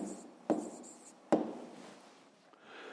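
A pen writes on paper during a math lesson, with a couple of brief taps and quiet scratchy strokes close by.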